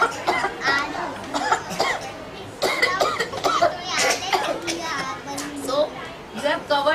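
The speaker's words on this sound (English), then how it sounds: "So you have covered your mouth when you have coughed." A classroom of children cough one after another into covered mouths, giving many short muffled bursts, some overlapping, with children's voices and a little laughter mixed in.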